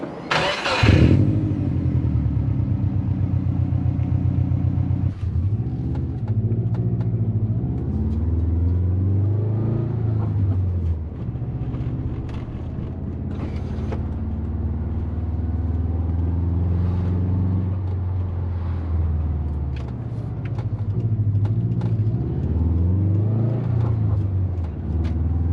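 A twin-turbo Subaru Forester starts up and drives off, its engine rumbling close by and rising and falling in pitch through several gear changes, with steady revving and deceleration over about twenty-five seconds.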